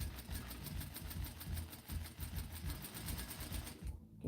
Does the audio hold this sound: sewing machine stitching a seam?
yes